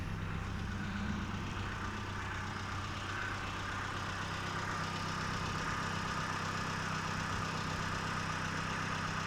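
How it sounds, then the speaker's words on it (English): The Magma engine of a UK-spec 1993 Proton Saga Iswara 1.3 GLS idles steadily, a low, even, fairly quiet hum with a constant rumble and no change in pace, with no talk over it. "There is the Magma engine ticking over like a charm."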